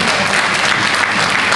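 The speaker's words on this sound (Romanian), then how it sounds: "merită să aplaudăm pe toți" Steady applause from an audience at a meeting, dense clapping filling the whole moment at close, even loudness with no talk over it.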